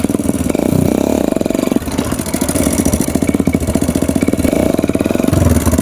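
A motorcycle engine runs up close, revving and pulsing with a rough, throbbing rhythm that rises and falls throughout.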